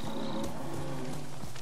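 A bear in Ghost of Tsushima gives a low, rumbling growl, close and sustained for a moment over game ambience.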